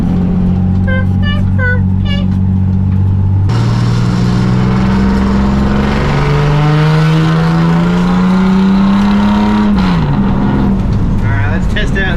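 A Ford AU Falcon revs hard while drifting, its engine note holding a loud, steady drone that climbs slowly, then drops sharply near the end, with a brief shift partway through and a faint squeal of tyres.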